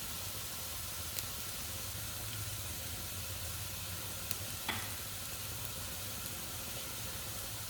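Onion fries and browns in a pan with a steady, faint, even sizzle and hiss throughout, broken only by a couple of tiny clicks, with no talking.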